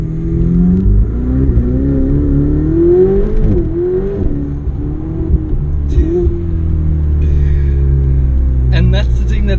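A Ferrari 488 Spider engine pulls hard under acceleration, its loud rising drone shifting pitch through gear changes, with talk over the top.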